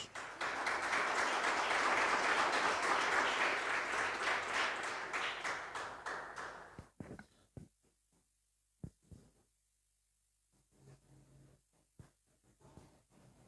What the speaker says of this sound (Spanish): Vamos a dar un fuerte aplauso a Jesús.